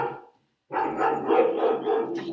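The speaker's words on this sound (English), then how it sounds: "I can hear a dog howl from nearby." A dog right next door howls and barks loudly in a sustained, wavering burst that follows a brief opening cry and a short silence.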